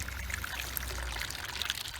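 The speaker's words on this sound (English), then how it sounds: "I'm just going to fill up another watering can" Water from a watering can pours steadily into a VW T5 windscreen washer bottle during a flush-out, a continuous close splashing trickle with no talk.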